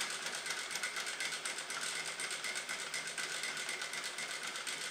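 A sewing machine stitches fabric along curves, a fast, even mechanical whir with a rapid buzzing pulse, steady and close throughout with no voices.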